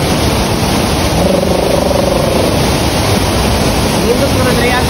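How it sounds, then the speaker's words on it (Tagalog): Bikayan Falls, a large waterfall with abundant cold water, roars as a steady broadband rush throughout, with a voice speaking faintly underneath. "Ug kini nga falls tungod sa kadako ug kaabunda sa tubig, perti kaayong tugnawa."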